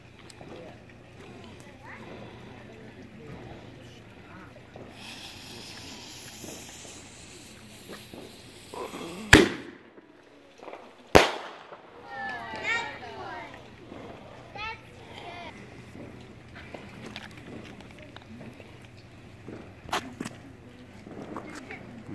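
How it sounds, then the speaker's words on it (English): Two sharp bangs of fireworks ring out with a crackling burst after, under a child's chatter and background talk. "Firework. Here's the Sky Dancer."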